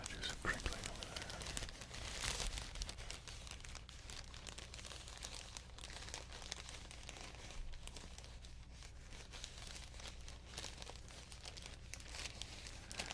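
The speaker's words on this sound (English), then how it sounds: "Doing some whispering over here while I do some crinkling over there." Packing material is crinkled quietly and steadily at close range, soft crackles running throughout, while faint whispering drifts in underneath.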